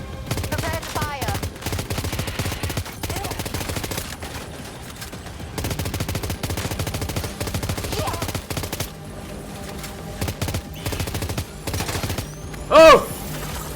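Sustained bursts of automatic gunfire in Death Stranding 2 during a fight with an enormous BT boss, rattling steadily through most of the stretch with short pauses and one sharp louder blast near the end.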